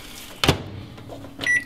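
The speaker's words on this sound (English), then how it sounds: "Pop it in the microwave" A microwave oven being shut and started to cook a sweet potato: a firm door thump, a soft clunk, then a short electronic beep as it begins running.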